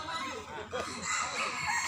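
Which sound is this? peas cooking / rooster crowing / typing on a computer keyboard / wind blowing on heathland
rooster crowing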